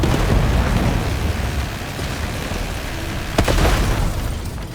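A missile explosion in the video game Call of Duty: Black Ops 6 lands as a heavy, sustained roar of blast and rumble, loud and close, with a brief sharper burst near the end.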